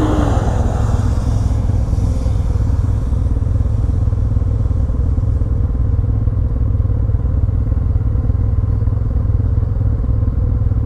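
A 2015 Yamaha TMax 530 scooter fitted with an old-style Akrapovic exhaust with the baffle in and Malossi parts, its engine running loud and close with a steady, throaty drone that lasts throughout.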